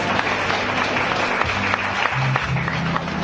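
Church congregation applauding during a Sunday sermon, a broad wash of clapping that runs steadily throughout with a faint murmur of voices underneath.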